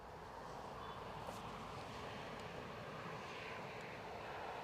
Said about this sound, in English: we've got Qatar Airways overflying us with their A350 en route to Edinburgh